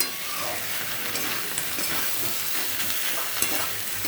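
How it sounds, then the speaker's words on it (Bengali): Masala fries in oil in a pan for a spring onion stalk curry while being stirred: a continuous low sizzle with occasional light scrapes and taps of the spatula, no voices. "এটা অনেকক্ষণ ধরে কষতে হবে মশলাটা ভালো করে কষা হয়ে গেছে"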